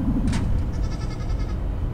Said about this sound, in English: We got a bunch of goats here, so if y'all hear them, then that's what that is.